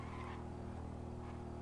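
A motorcycle engine being ridden in the video game GTA V, a steady, faint, buzzing engine drone that holds the same pitch the whole time.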